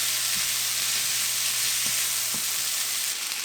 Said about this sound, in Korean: 이제 피망을 넣고 볶아주면 됩니다